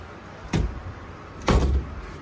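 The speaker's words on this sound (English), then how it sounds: "I could close the door." A door is pushed shut twice, each a short muffled thump with a brief rush of noise, about a second apart, close by and with no talking.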